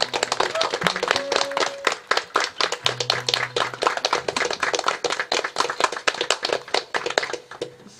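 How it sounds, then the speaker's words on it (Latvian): A folk song concert audience claps, many hands in a fairly crisp rhythmic patter with distinct individual claps, steady and close for about eight seconds, with faint tonal hums and brief voices underneath. "lielu paldies ar lieliem aplausiem."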